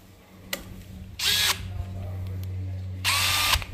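A DeWalt drywall screw gun whirs in two short trigger bursts, close and loud, with a lower motor hum and faint clicks between them.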